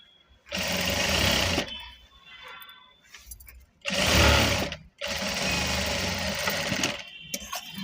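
Sewing machine stitching the sleeves of a readymade blouse during alteration, running in three loud sustained bursts of rapid stitching separated by brief quiet pauses, close up with no talk.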